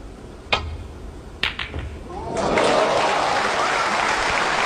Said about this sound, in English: The applause from the crowd there, well merited